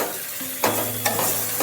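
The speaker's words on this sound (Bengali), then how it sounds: "বেগুনগুলো ভালোভাবে এর সাথে নাড়াচাড়া করে নিতে হবে।" Eggplant frying in oil with flat beans in a pan, a steady loud sizzle broken by three sharp scraping stirs of a spatula.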